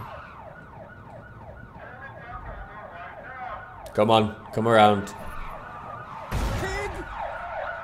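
A police siren in the driving video game Blind Drive wails and gradually grows closer under continuous game audio, while someone talks over it in short bursts.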